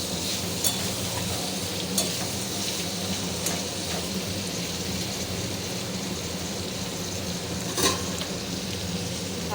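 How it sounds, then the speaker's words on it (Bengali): Vegetables sizzle steadily in a pan with turmeric while being stirred, giving a continuous frying hiss with a few faint scrapes and clinks throughout. "আরও একবার নেড়ে নিই। ভালো করে হলুদটা মিশিয়ে দিই।"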